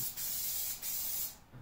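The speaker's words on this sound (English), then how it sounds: "First spray the seat," Spray adhesive hisses loudly from an aerosol can onto a car seat in two steady bursts with a short break between, ending as the nozzle is released.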